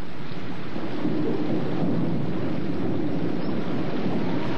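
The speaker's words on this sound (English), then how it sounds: "Game called on account of rain." Heavy rain and rolling thunder wash over a Trobriand Islands cricket match, a loud, continuous roar with rumbling low swells and wind buffeting the microphone. No voices are heard.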